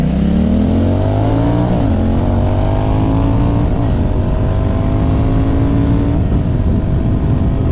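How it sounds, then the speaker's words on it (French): A Royal Enfield Interceptor 650 motorcycle engine revs loudly and close by, its pitch climbing in repeated throttle blips over a constant heavy roar. "on a vraiment une montée hyper franche en régime, on a un son qui est juste extraordinaire"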